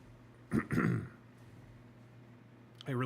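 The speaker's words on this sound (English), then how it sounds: "I really shouldn't be clearing my throat." A man clears his throat twice in quick succession, a short rough rasp then a longer guttural one, close to the mic in a quiet room, followed by the start of a voice.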